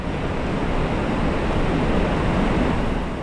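Flash flood water after a cloudburst in the Ganvi area of Rampur, Shimla, roars as a loud, continuous broadband rush, with no pauses and no voices.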